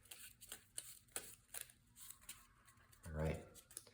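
Quiet riffling of a deck of cards near the mic, a few short bursts of shuffling ending in a fuller riffle.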